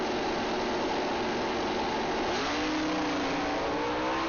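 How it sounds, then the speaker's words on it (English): Drag race cars, including a 1998 Mustang with a 351 engine and automatic transmission, launch hard off the line, a loud continuous engine roar that rises in pitch as they accelerate, with no talk. "these cars are planting the tires and lifting the wheels high in the air. Good hard launches"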